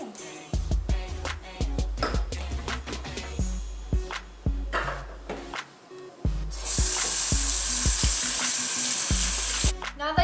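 Running water pours steadily from a tap for hand washing in a home kitchen before baking brownies, starting after a few seconds of scattered clatter and then hissing loudly and continuously for several seconds.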